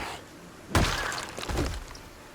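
Glass smashes in Project Zomboid, a sudden sharp crash followed by scattered tinkling shards and a couple of duller knocks over roughly a second and a half.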